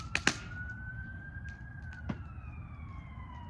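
Distant fire engine or ambulance sirens wail faintly in the background, the steady tone drifting slowly, with a few sharp pops and clicks nearby.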